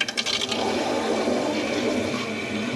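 A toilet flushes with a rushing gurgle of water that settles into a steady refill hiss, in a house with low water pressure.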